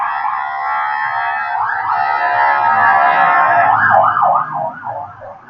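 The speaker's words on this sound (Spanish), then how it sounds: "disculpan que va pasando una ambulancia." An ambulance siren wails continuously, rising and falling over steady traffic rumble, loud and close as it passes by before fading slightly at the end.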